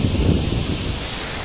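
Ethipothala waterfall near Nagarjuna Sagar pours down with a steady, dense rushing roar, loud and unbroken across a brief moment, with no voices.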